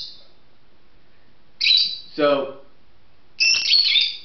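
A pet bird chirps indoors in a room, giving a few sharp, bright tweets in separate bursts with a lower squawk among them, close and clear, alongside a brief spoken word.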